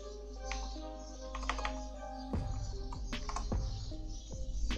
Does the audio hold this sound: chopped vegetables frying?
no